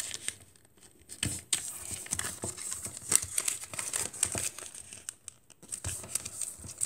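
Paper is folded and creased into an origami takeout box, with continuous close crinkling and crisp rustles, occasional sharper crackles, and no talking.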